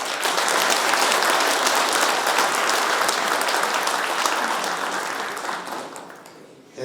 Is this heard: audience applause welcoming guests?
yes